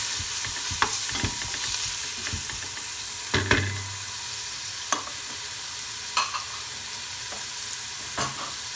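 Meat sizzling in a pot as harira soup is started, a low steady fry with intermittent scraping stirs and a few soft knocks of the spoon, fairly quiet and with no talking.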